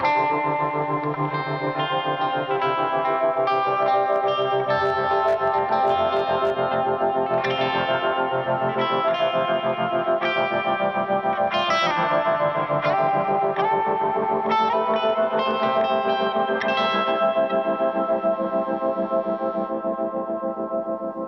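Electric guitar played through a Strymon BlueSky v2 reverb pedal on its waves setting, chiming chords with a heavy, shimmering modulated wash and long trails, loud and continuous throughout with no talking.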